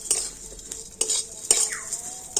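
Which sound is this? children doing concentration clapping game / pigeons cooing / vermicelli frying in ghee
vermicelli frying in ghee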